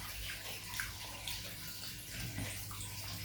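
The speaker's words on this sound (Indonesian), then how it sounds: "jadi aliran airnya yang dari tandon itu kecil banget" Water trickles weakly from an underground storage tank with no pump into a tub, a faint, steady splashing flow with a low hum beneath it and no voices.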